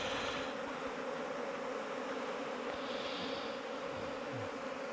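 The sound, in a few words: honeybees around a hive being smoked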